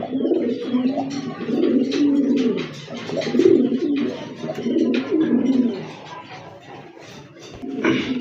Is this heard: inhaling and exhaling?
no